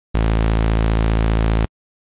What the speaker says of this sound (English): Then I added on some bright white noise, and you can just go to analog,